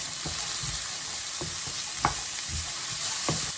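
A vegetarian meatball mixture with carrots is stirred in a bowl, giving soft repeated squelching and scraping strokes at an uneven rhythm over a faint steady hiss, close and quiet, with no talk.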